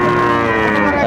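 A Sahiwal cow standing with her calf at a cattle market gives one loud, close, sustained moo.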